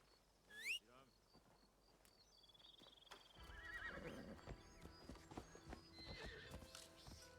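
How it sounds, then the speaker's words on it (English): A horse in the video game Assassin's Creed Shadows gives a sharp, high whinny, then its hooves clop in a quickening gallop through bamboo, mixed with insect chirps and game sounds, while a player talks over it. "Let's not call the horse in the bamboo."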